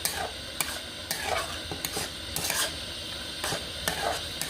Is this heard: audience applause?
no